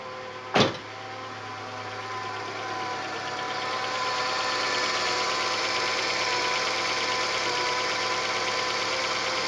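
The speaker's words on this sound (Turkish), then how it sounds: "Çalıştırıyoruz aracı. Şu an araç benzinde." A gasoline-fuelled car with low fuel pump pressure and a slow start idles steadily after a brief sharp click at start-up, its even engine hum and hiss running unbroken and fairly loud to the end.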